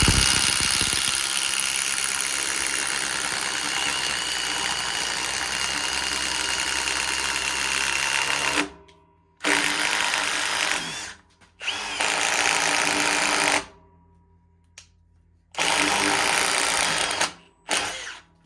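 A Senix impact driver drives a bit into wood in a loud, continuous whine for about eight seconds, then stops and restarts in several shorter bursts separated by silent pauses.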